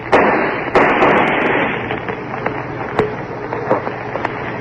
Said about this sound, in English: I shot you.